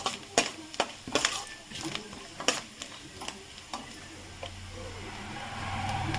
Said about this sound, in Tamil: இது நல்லா பொரிஞ்சிட்டு இருக்கக்குள்ள